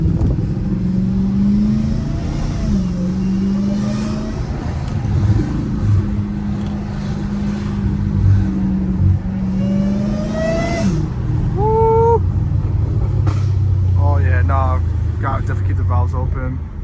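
Dodge Challenger Hellcat Redeye V8 with its supercharger whining through repeated revs, a steady low engine drone rising and falling with whistling tones near the end, while people talk over it.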